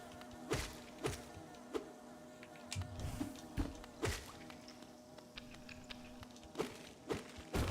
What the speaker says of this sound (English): I think that buzzing is getting louder.